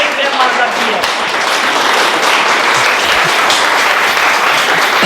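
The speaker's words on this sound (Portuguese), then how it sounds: "Um imenso aplauso" Sustained applause from an audience at a regional authors' gathering, a loud, steady wash of many clapping hands throughout, with voices faintly underneath.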